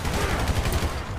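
Gunfire in GTA V story mode, a dense continuous fusillade of rapid shots with no pauses, loud and close.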